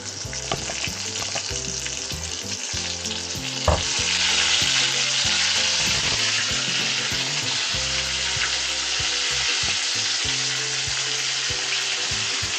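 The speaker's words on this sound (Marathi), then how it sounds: "आता ज्या वांगी भरलेल्या आहेत त्या वांगी, ते वांग हळूहळू सोडायचं तेलामध्ये।" Stuffed brinjals slipped into plenty of hot oil seasoned with curry leaves, giving a loud, continuous close sizzle that swells into a fuller roar after a few seconds, with a few faint clinks.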